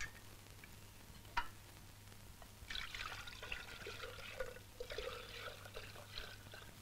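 Water trickles and splashes as it is poured out for someone, faint and fairly distant, with a sharp tick early on and then a few seconds of uneven pouring.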